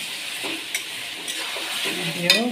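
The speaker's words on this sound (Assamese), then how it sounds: "তাৰপাছত এতিয়া ভালদৰে লাৰি দিম" Broiler chicken meat with chicken masala being stirred in a frying pan, a close sizzle under several scraping stirs and light spoon-on-pan clinks across a brief stretch.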